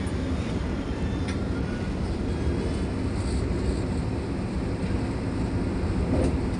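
A steady, loud rumble with rattling fills a nearly empty passenger train as it travels toward Tirupati, unbroken throughout, with no one talking.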